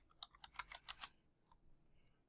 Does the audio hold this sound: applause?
no